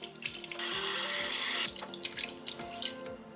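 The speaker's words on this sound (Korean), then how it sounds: "양파 4분의 1개도 얇게 채 썰어 볼에 담고 물에 3번 정도 씻어서" Tap water runs into a bowl while thinly sliced onion is rinsed, a close steady gush broken by splashing, sloshing and dripping as the onion is swished about.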